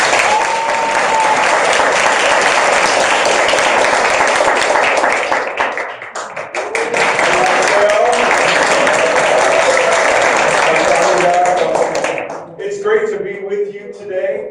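A university audience applauds to welcome a speaker to the stage, loud sustained clapping that dips briefly, swells again, then fades as a voice begins speaking.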